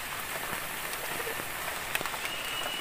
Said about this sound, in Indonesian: Nggak hujan dan sekarang hujan.